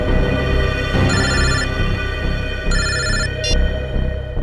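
A telephone rings with electronic chirping bursts, three short ringtone trills spaced over a few seconds above a loud, busy background from a Hindi crime drama.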